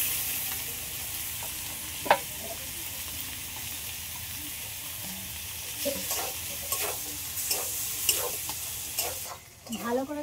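Papaya and potato pieces frying in a pan for a Bengali hilsa fish-head ghonto, a steady sizzle broken by clacking stirs and scrapes of a spoon, louder toward the end.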